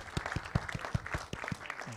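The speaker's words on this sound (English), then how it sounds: "Please give a big round of applause for them." Audience applause at a Bollywood trailer launch event for All Is Well, a steady patter of clapping running through the whole stretch with some sharper hand claps standing out, fairly close and alone.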